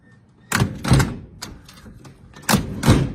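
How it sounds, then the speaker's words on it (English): Two pairs of heavy thuds, close and solid, of a classic Ford car door being shut firmly twice with a short pause between. "That's the way you're supposed to shut those doors."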